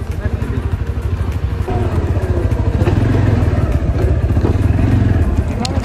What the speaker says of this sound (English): it's really helpful to have a quad